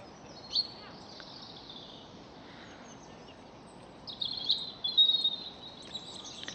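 Wild birds, bluebirds, robins and a blackbird, calling and singing from a tree: scattered thin chirps and short phrases, faint to moderate, with a denser burst of song near the end against a quiet outdoor background.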